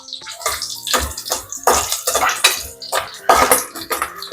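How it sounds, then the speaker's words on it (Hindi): Onions tipped into a hot pan of oil with green chillies, giving bursts of loud sizzling and spattering with clinks of utensils against the pan. "इसमें हम डालेंगे प्याज"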